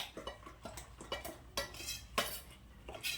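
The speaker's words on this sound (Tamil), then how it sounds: "நல்லா கட்டி இல்லாமல் மிக்ஸ் பண்ணிக்கோங்க." A spoon stirs and scrapes around a bowl, with soft irregular clinks and swishes. It is quiet and close, with no talking.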